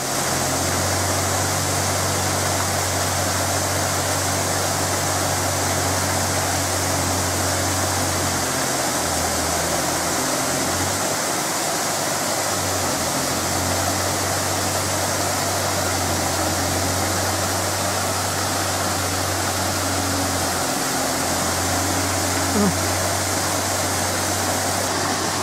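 Steady broadband rush of a waterfall beside a small beach, a constant close roar with no talk, a low hum running underneath much of the time.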